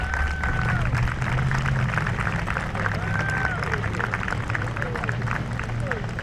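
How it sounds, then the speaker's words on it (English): A crowd applauds Marines at a Veterans Day ceremony in Woburn, steady dense clapping throughout while voices chatter and a few whistles rise above it. "let's give them all a great round of applause for celebrating their birthday"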